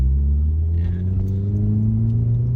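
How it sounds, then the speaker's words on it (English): Loud, steady car engine drone while driving, a deep continuous rumble with slowly rising harmonics and faint jingling keys on top, no talking. "so this car is way louder"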